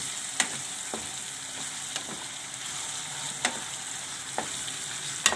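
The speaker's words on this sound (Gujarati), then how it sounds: "તો હવે આપણે આ કાજુ નાખી દેવું, એને આપણે ઘડીક તેલમાં સડવા દેવાના છે" Cashews frying in oil within a tomato gravy, a steady soft sizzle with occasional clacking stirs of a spoon against the pan, moderately faint and close, no voices.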